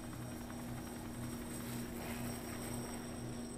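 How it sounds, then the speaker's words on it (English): A steady helicopter rotor drone in the video game RoboCop Rogue City, a continuous low thrumming hum held at a constant, fairly quiet level with no talking. "Helicopters are loud."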